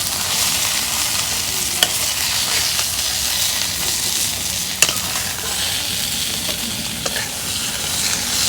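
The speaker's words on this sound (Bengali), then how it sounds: "কতগুলো মাছ আমি ভাজা নিলাম, আরও আছে মাছ ভাজা নিবে" Rupchanda fish frying in hot oil in a home kitchen, a steady close sizzle with a few sharp spatters and pops, no voices.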